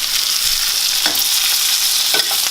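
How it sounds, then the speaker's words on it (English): Steaks sizzle steadily in a hot pan while butter is spooned over them, a constant close frying hiss with brief spoon scrapes and stirring clatter. "get your steaks on one part. And you're going to try and baste the butter on top of it."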